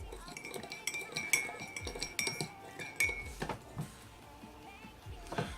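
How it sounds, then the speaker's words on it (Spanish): Borax being stirred in a container to dissolve it for homemade slime, with a utensil clinking and scraping against the sides in quick irregular taps, close and fairly soft. "Lo agregamos y revolvemos para que esto pueda disolverse."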